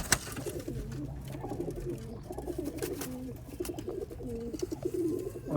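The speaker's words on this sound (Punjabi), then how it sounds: "ਇਹ ਕਾਲੇ ਮੂੰਹ ਵਾਲਾ ਕਬੂਤਰ ਜੀ" A black-faced pigeon coos in repeated soft, rolling phrases close by, fairly quiet against light background noise, with no talking.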